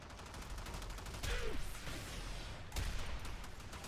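Vacor Heck shotgun in the Warframe video game, two heavy blasts about a second and a half apart over a constant background of game noise and rapid fire.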